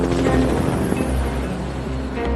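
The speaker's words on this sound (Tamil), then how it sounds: "இங்க பாரு, ஒரு ஹெலிகாப்டர் வருது." Helicopter approaching in an animated Barbie movie, a steady low rotor drone that holds loud and even for a couple of seconds with no talk over it.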